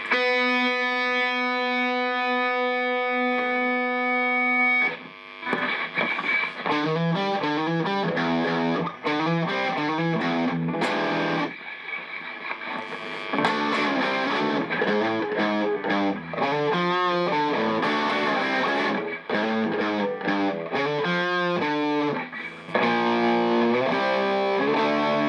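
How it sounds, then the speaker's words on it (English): Heavily distorted electric guitar through a Hughes & Kettner Metal Master with the gain all the way up, playing loud chords and riffs, with a sustained opening chord followed by choppy, rhythmic strumming throughout. "And all the way up, you really get a nice distortion."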